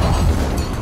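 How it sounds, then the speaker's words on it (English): A grenade in Dying Light 2 bursts in one loud, short, rumbling blast up close, less than a second long. "Grenade!"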